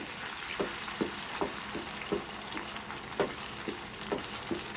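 Goat liver curry paste fries in a pan with a steady close sizzle, broken by repeated scraping stirs about every half second.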